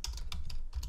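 Quick keystrokes on a computer keyboard as a command is typed, a handful of crisp, close clicks in an uneven rhythm with no voice over them.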